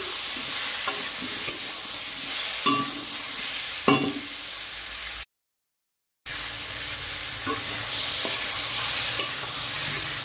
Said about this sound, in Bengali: এখন আরেকটু নেড়ে দিচ্ছি।